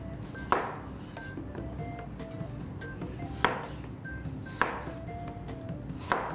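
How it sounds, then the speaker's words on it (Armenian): Potatoes being cut with a knife on a board, a few sharp, close chops spaced roughly a second or more apart over a quiet kitchen background. "Կտրատենք կարտոֆիլը,"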